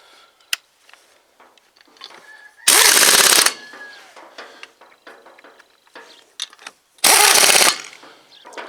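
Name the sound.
impact wrench loosening and tightening wheel bolts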